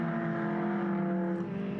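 Race cars including a Datsun and a Ford Prefect at Redstar Raceway, engines droning loud and steady with strong harmonic whine as they pass close, easing slightly toward the end.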